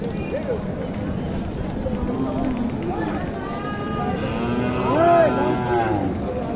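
A Sahiwal-cross cow moos at a busy cattle market, several drawn-out calls rising over a constant hum of crowd voices and shuffling livestock, the loudest bellow near the end.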